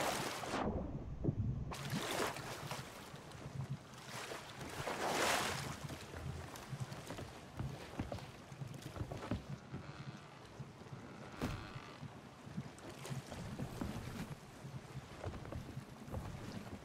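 A ship sailing on open water in the pirate game Sea of Thieves, heard as a steady broad wash of waves and rushing wind, with a few louder gusts and splashes rising out of the constant roar.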